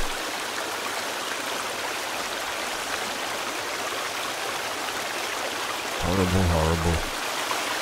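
A waterfall in the survival game Sons of the Forest gives off a constant broad rushing hiss that fills the whole clip, and near the end someone briefly speaks over it.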